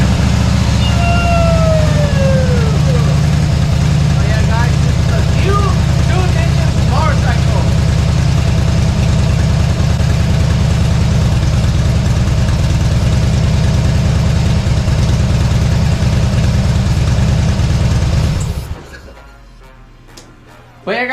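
A fuel-injected 1800cc motorcycle engine runs loud and steady at idle for most of the span, a deep rumble with some tonal whine on top, then it shuts off near the end and the sound drops away.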